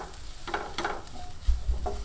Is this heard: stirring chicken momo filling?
yes